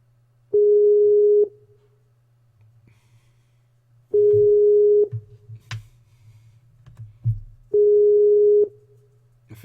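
Telephone ringback tone heard during an outgoing call: three loud, steady buzzing bursts of about a second each, spaced a few seconds apart, with faint background murmur and a low hum between them.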